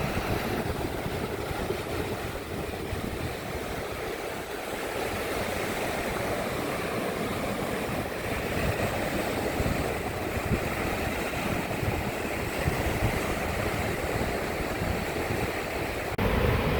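Sea water washes steadily against stones on a seaweed-strewn shore, a continuous broadband rush and wash with some wind noise, holding an even loudness throughout and no talk.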